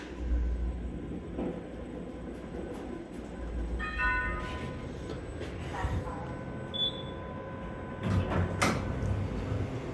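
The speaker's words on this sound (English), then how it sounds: "So this is a liferonic lift." A Liferonic lift at Burwood train station runs with a steady low mechanical hum, brief chimes and a door sliding shut, set against faint station background noise.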